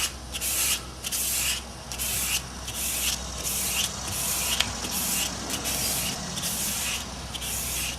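Steady hand sanding of a car headlight lens in rhythmic back-and-forth strokes, a raspy scrubbing sound repeating about once a second, close by with no talking.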